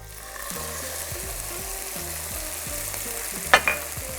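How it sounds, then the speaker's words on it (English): Lemon juice splashes into a pan of sizzling garlic butter with seasonings, a steady close frying hiss punctuated by a sharp burst as the liquid hits the hot fat. "Next, I'm just gonna add my lemon juice."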